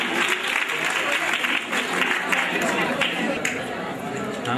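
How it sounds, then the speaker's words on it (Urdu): Crowd of students clapping at a university farewell party, a continuous, busy patter of hands with voices and chatter mixed in throughout. "تالیاں"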